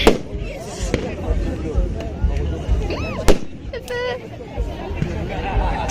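Fireworks bursting at a 1st of August celebration, with sharp bangs, crackles and whistling rockets going off repeatedly over a steady murmur of crowd chatter and nearby voices.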